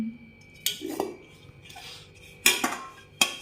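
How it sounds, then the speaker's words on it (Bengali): A spoon scrapes and clinks against a cooking pot as rice is served, giving a few sharp metallic knocks and scrapes spread over a few seconds, close by and fairly quiet. "হাঁড়ি শুদ্ধ ভাত বেড়ে দিচ্ছ নিয়ে"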